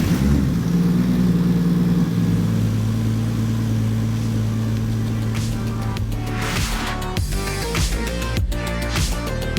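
A CRESTA car with its engine freshly reinstalled cranks with a steady droning whir, then catches and starts with uneven bursts in the last few seconds. No one talks.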